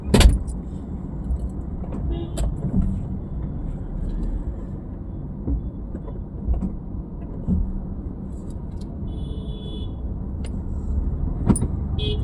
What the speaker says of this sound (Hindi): जाइए, गाड़ी चला के दिखाइए आप हमको।